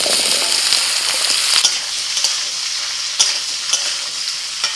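Potatoes fry in hot oil with green chilies and lentils in a pan, a loud continuous crackling sizzle with scattered clicks and scrapes of stirring, close up and without voices.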